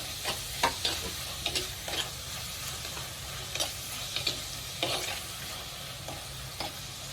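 Chopped onions frying in hot oil in a pan for a Kerala fish curry, a steady close sizzle broken by scraping stirs and light clicks of the spatula, with no talk.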